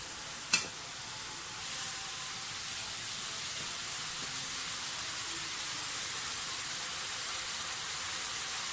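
Chicken fried rice ingredients, with soy sauce and vinegar, fry in a pan. A steady, fine sizzling hiss runs throughout, with one sharp clink near the start and a soft stir shortly after.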